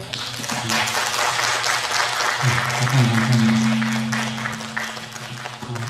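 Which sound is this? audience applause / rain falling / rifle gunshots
audience applause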